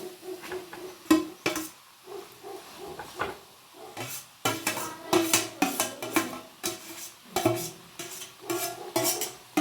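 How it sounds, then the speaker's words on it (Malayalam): Sautéed onion and tomato go into a pan and are stirred. A spoon scrapes and clatters against the metal pan in busy, uneven strokes, close by, with a faint sizzle between them. "ഉള്ളി വാട്ടി വെച്ചത്, തക്കാളി ഉള്ളിയൊക്കെ വാട്ടിയത് നമുക്ക് അതിലേക്ക് ഒഴിച്ചു കൊടുക്കാം"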